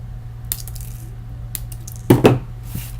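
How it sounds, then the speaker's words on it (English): A couple of quick, sharp snips close up as thin wire is clipped while making a flower, one right after the other, over a low steady hum. "So I'm just going to clip off the excess."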